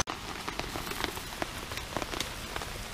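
Rain falls steadily at a rainy motorcycle campsite, a continuous close patter on surfaces with scattered sharper drop ticks throughout, and no voices.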